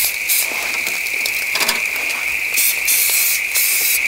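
Cooking spray hisses onto mushrooms at a campsite in several short, bright bursts over a steady high insect-like drone, close and moderately loud, with no talk.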